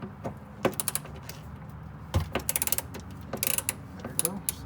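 Ratchet wrench loosening a 13mm strap bolt on the fuel pump of a 2008–2013 Cadillac CTS, heard as close, rapid bursts of metallic clicking in several quick runs with short pauses between.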